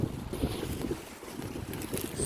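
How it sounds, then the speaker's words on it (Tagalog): Strong wind blows outdoors in a continuous loud roar, buffeting the microphone throughout with rising and falling gusts and no talk. "ang lakas ng hangin oh"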